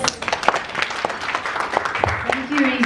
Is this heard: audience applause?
yes